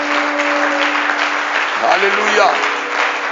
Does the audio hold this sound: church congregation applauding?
yes